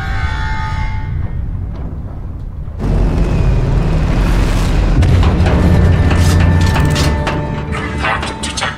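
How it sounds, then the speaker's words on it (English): A heavy impact strikes a rocket booster in the Tales from the Borderlands game, a sudden deep boom that cuts in after quieter mechanical tones, followed by sustained rumbling and clattering metallic debris. "Impact detected on center rocket booster."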